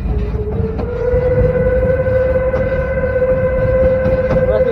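A narrow gauge steam locomotive on the Cumbres and Toltec railroad sounds one long, steady whistle blast, loud and close, over a low rumble of the moving train.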